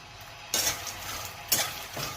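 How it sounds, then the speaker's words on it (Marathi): Makhana (fox nuts) frying with salt and turmeric in a pan, a steady close sizzle with two louder stirring scrapes of a spoon against the pan. "हा मखाना त्याच्यामध्ये घालून"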